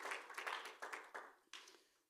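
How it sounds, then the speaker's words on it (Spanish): Scattered clapping from a church congregation, a handful of sharp claps in loose bursts that fade out, faint and somewhat distant. "denle un aplauso, iglesia, al Señor"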